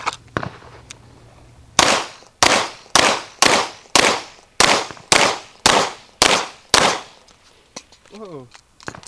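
Staccato P pistol fired on a range: about ten sharp, loud shots in a fairly steady string, each with a short decaying ring, a brief pause midway, and light voice sounds near the end.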